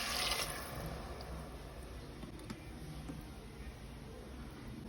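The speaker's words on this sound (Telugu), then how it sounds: "ఇప్పుడు గ్లాసున్నర వాటర్ వేసుకోవాలండి" Water pours into a cooking pot for vegetable biryani, a faint continuous splashing hiss that starts a little stronger and then settles into an even, quiet stream.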